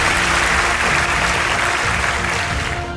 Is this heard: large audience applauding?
yes